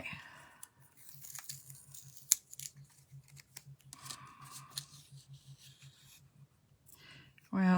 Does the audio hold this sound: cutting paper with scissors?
yes